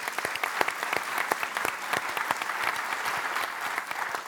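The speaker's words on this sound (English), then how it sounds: "So I'd like to give a big round of applause to the Detroit Regional Chamber" Applause from a conference audience at a Michigan business event hosted by the Detroit Regional Chamber, a steady wash of many hands clapping with dense overlapping claps throughout, moderately loud and without talk.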